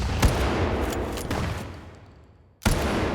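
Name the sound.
layered shotgun blast sound effect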